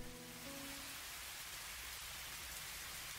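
Rain patters steadily in the video game Fallstreak, a soft, even hiss of drops on the ground. A brief low tonal hum fades out in the first second.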